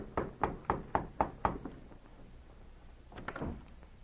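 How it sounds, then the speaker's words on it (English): Knuckles rap on a hotel room door in an old-time radio drama effect: a steady series of six sharp knocks, then a pause and a few softer, quicker taps, close and clear with no voices. "the two Mounties arrived at the Victoria Hotel and knocked on the door of Norma Roswell's room"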